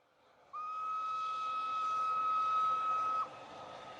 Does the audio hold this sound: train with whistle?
yes